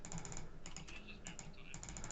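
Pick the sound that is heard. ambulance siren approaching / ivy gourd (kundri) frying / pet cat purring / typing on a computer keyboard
typing on a computer keyboard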